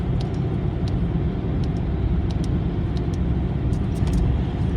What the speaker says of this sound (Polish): Ja mam pedał przyspieszenia wciśnięty tylko na tyle, żeby auto bardzo powoli przyspieszało.